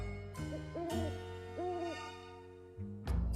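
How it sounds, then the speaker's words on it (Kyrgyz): Several rising and falling owl hoots ring out in an animated children's episode. The calls sound smooth and tonal, almost musical, repeating over a low sustained backdrop, with no talking. "Чын эле үкү."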